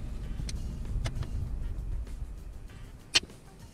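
A used BMW 3 Series is switched off: its low idle hum fades away after a couple of seconds, and a sharp click follows near the end, all fairly quiet.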